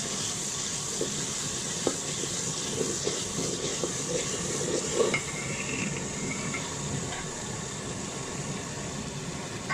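Chicken keema fries and is stirred in a pan, a faint continuous sizzle with scattered soft scrapes and clicks of the spoon, no voices.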